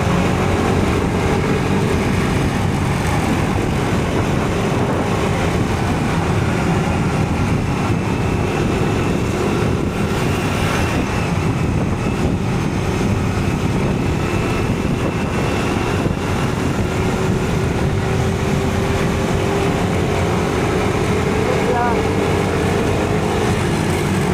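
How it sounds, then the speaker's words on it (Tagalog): A vehicle engine runs steadily after having overheated, a continuous loud droning hum with road and wind noise and no break across the whole stretch, no talk. "Yung medyo nag-init na ang makina, lumubay na uli."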